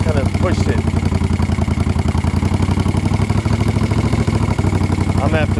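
A 1975 Moto Guzzi cafe racer engine idles close by with a rapid, steady, loud mechanical pulse and slightly raised revs, while someone talks over it.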